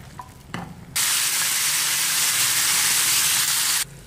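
Pork intestines fry in a pan with a loud, steady sizzle that starts abruptly after a brief clatter and runs for about three seconds before cutting off.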